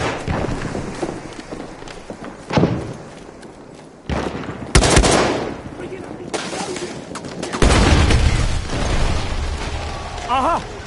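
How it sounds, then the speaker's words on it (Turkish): A thrown bomb goes off amid steady gunfire in the shooter General Liu Factory, with bursts of rifle shots, sharp blasts and loud booms crowding each other while someone shouts in Turkish over the chaos. "Bomba atıyorum!"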